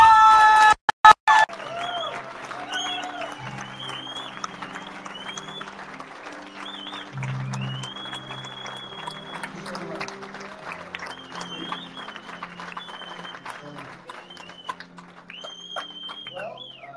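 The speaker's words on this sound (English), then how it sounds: "please give me a round of applause." A crowd at a political rally applauds and cheers continuously, with scattered shouts and whistles rising over the clapping throughout.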